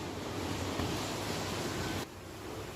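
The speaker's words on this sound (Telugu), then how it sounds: "ఇలా గోల్డెన్ బ్రౌన్ కలర్లో వేగాలి చక్కగా." Gulab jamun dough balls deep-fry in hot oil until golden brown, giving a steady, close hissing sizzle that dips slightly in level near the end, with no voices.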